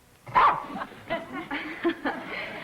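A small dog yaps in short, bright barks spread across the moment, moderately close, with faint voices in the background.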